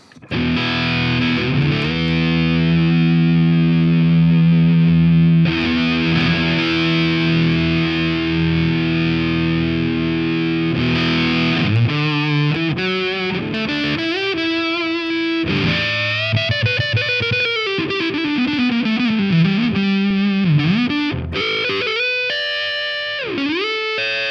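Fuzz-distorted electric guitar played through a ToneX amp profile with a brightening presence EQ boost: sustained chords ring out, then a run of bending, sliding single-note phrases follows, loud and upfront with no talking.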